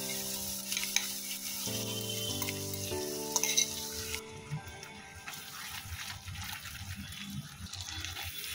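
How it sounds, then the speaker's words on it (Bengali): Yogurt goes into a prawn masala frying over low flame and is stirred in at once, giving a steady sizzle with spoon scrapes and stirring, fairly close and continuous, with no voices. "দই দেওয়ার পর সঙ্গে সঙ্গেই খুব ভালোভাবে নেড়ে চেড়ে মশলার সঙ্গে মিশিয়ে নিতে হবে।"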